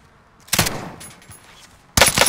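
Video game gunfire from a regular gun: two loud, close bursts of rapid shots about a second and a half apart, with a quieter stretch between.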